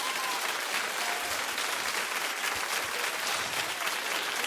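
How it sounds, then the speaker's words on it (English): A TV talk show studio audience claps continuously, a dense, loud, even roar of many hands that holds steady without a break from start to end. "Keep clapping."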